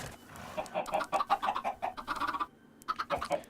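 Chickens clucking in the blocky survival game TerraFirmaCraft, a dense run of short, close clucks and squawks that breaks off briefly near the end and then resumes, with no talk.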